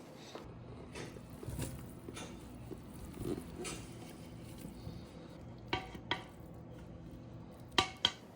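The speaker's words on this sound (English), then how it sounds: "I want to transfer the jambalaya to another pot that we can keep in a 200-degree Fahrenheit oven" Thick jambalaya being scooped and shifted into another pot, with soft scraping and wet shuffling of the dish, then a few sharper clanks of utensil against metal pot, close and fairly quiet, with no talking.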